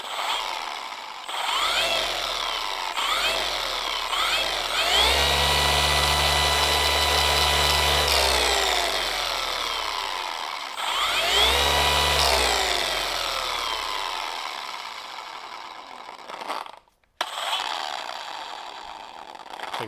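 A Milwaukee M18 Fuel cordless random orbital polisher runs with a loud motor whine that rises and falls in pitch as it speeds up and slows down, then cuts out briefly near the end before starting again.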